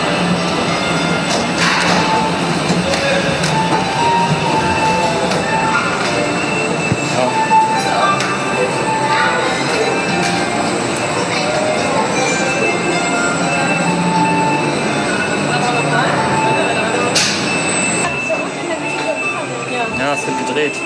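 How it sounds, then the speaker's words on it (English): Steady rumble of a train in China running on rails, wheels squealing and clattering, with a couple of sharp thumps and murmured voices underneath. "Our dream train."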